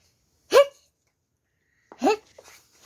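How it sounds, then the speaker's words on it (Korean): Two sharp, separate hiccup-like gulps, alone and close, the second followed by a small trailing vocal sound, from a skeleton character in a children's picture-story reading. "딸꾹질 소리"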